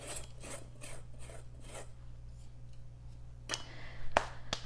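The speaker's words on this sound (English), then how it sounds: "we just whisk it together to combine our dry ingredients" A whisk scrapes rhythmically through dry ingredients like flour, baking powder and salt in a bowl, about half a dozen quick rasping strokes, then a pause and a few sharp taps near the end.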